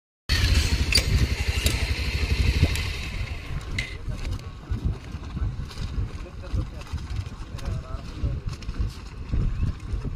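Motorcycles ride onto a river ferry at a ghat on the Brahmaputra, engines revving loudly up close at first and then settling into a rumbling, fluctuating drone under wind buffeting the microphone.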